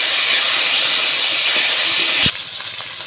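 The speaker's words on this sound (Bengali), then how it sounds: "এখন আমি আলুগুলোকে কষিয়ে নেব" A steady, loud hiss of hot oil sizzling as potatoes fry with cumin, with a brief clatter near the end as they are stirred in the pan.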